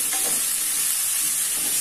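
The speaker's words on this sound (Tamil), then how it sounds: "இந்த ஆனியன் நல்லா கோல்டன் ப்ரவுன் வர வரைக்கும் நல்லா ஃப்ரை பண்ணுங்க" Onions frying in an ALPXEL frypan, a continuous close sizzle with a faint scrape of stirring, steady and unbroken with no voices.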